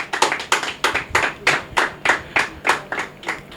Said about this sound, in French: Mesdames et messieurs, est-ce qu'on peut applaudir pour celui qu'on appelle Pattern Maestro?